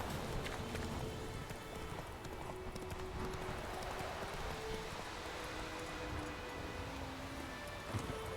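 Roach the horse gallops across open ground in The Witcher game, a steady rapid clip-clop of hooves running continuously under soft wind-like ambience, with no voices over it.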